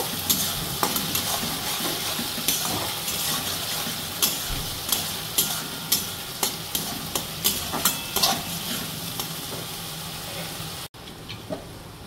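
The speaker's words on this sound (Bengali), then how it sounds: "এবার পেঁয়াজটা আমি ভালো করে কষিয়ে নেব" Onions sautéing in a pan for a Bengali stuffed pointed gourd dish with paneer, a steady broadband sizzle with a run of rhythmic scraping stirs in the middle, close and continuous before cutting off near the end.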